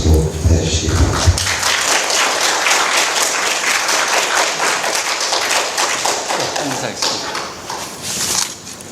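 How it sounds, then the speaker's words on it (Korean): An audience applauds loudly to welcome a novelist to a 2008 literary talk, a dense, sustained patter of many hands clapping for several seconds, rising briefly near the end before tapering off. "다들 큰 박수로 해주시기 바랍니다"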